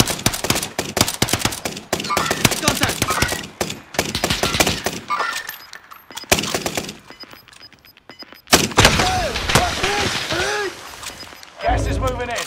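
Gunfire in a Call of Duty match: rapid bursts of automatic fire and single shots crackle through most of the stretch, with a loud thump near the end, and players talk over the shooting.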